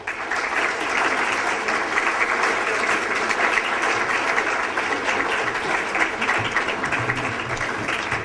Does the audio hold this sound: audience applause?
yes